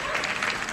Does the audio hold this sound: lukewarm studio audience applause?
yes